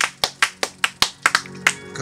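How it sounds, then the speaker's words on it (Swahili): Congregation at a Sunday church service claps in a slow, regular rhythm, about ten crisp sharp claps spaced evenly, close and distinct with brief quiet gaps between. "Mpigie Bwana Yesu makofi ya kutosha"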